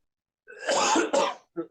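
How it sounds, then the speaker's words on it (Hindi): A person coughs and clears their throat up close, a rough rasping burst followed by a couple of short, quieter hacks. "खांसी किसी किसी टाइम हो जाती है और काफी ज्यादा हो जाती है"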